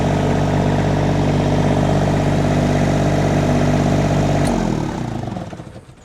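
Engine of a Chinese mini skid steer running loud and steady at high throttle with a strong droning hum, then spinning down as the throttle drops near the end, close with no talking.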